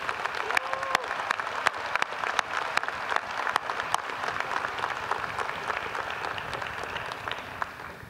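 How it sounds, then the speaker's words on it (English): Crowd applause at a winter graduation commencement, a steady sustained wash of many hands clapping throughout, moderately loud with scattered sharper claps. "well-deserved round of applause."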